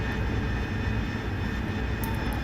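Steady, loud aircraft engine drone from a jet in DCS World during a zoom climb, a continuous low rumble with a constant whine and no pauses throughout.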